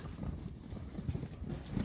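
Village livestock coming home from pasture on a winter evening, hooves clip-clopping in a steady, overlapping patter at close range over a low rumble of movement, with no talk.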